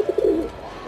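Pigeons coo close by, a few soft rounded low coos in quick succession followed by a quieter trailing one, all within about a second.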